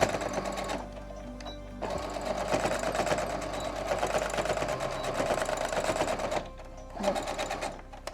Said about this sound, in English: we're just going to sew straight across the edge